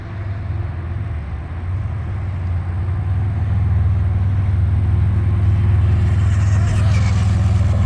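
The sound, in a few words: Traxxas Mini Rally Ford RS200 RC car speed run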